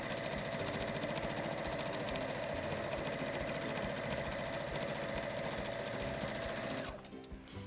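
A sewing machine stitches a seam, its steady mechanical whir and rapid needle chatter running continuously and fairly close for about seven seconds before stopping abruptly.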